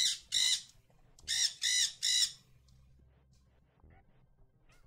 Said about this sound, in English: Bird, you squawked in time with this thing.